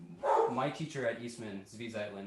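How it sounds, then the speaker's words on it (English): A pet dog barks and yips faintly in the background of a home setting, the short barks buried under a man's continuous nearby speech. "you might hear my dog in the background right now"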